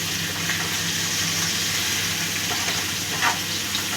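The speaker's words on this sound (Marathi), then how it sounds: "कोथिंबीर हे आता आपण सगळे छान असे तव्यावर परतून घेऊया." Coriander fries in a little oil on a hot griddle, a continuous close sizzle with light stirring and scraping and a brief louder crackle near the end, with no voices.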